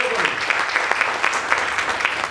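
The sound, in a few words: audience of ladies clapping loudly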